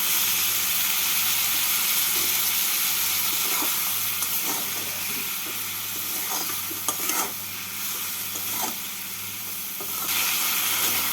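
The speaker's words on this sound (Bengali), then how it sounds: "অল্প জল দিয়ে সবজির সাথে মশলাটাকে ভেজে নেবো" Vegetables and spices with turmeric, salt and Kashmiri chili powder fry in a pan with a little water for a fish curry, making a loud, steady sizzle and hiss with intermittent spatula scrapes and stirring.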